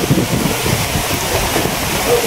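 Steady, strong wind ahead of a typhoon roars and buffets the microphone continuously, a broad rushing noise with gusty swells throughout and no clear voices.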